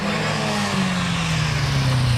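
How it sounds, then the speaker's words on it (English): An MG Midget racing car at the Prescott hillclimb passes under a bridge, its engine droning loud and close with a rising then steady pitch as it climbs. "Ben Cross comes under the bridge in the MG Midget"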